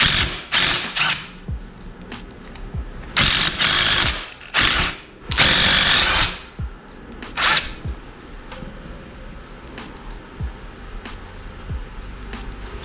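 A ratchet wrench clicks while bolts come out of a Honda Grom motorcycle, heard as close, irregular bursts of rapid metallic ratcheting with quieter handling noises and gaps between them.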